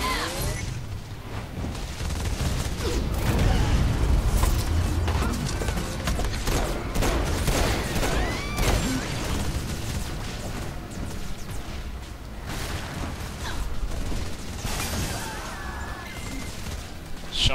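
Shotgun blasts ring out in a Saints Row 4 boss fight, with booming shots and chaotic game noise layered over dense combat effects while voices talk on top.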